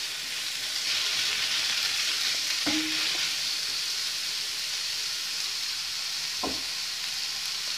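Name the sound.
sautéing aloo paratha filling in a pan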